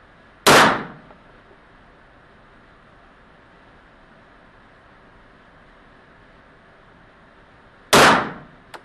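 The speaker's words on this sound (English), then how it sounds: "Let's shoot a little to the left." A Browning clone 9mm pistol fired at an outdoor range, two loud, sharp reports spaced about seven seconds apart, each with a short echoing tail over a quiet windy background.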